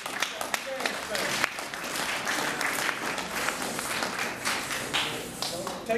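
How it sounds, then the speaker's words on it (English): A school audience breaks into applause, steady mid-distance clapping with scattered sharper claps and some crowd voices, holding at an even level for the whole stretch. "So give yourself a round of applause for where you're at"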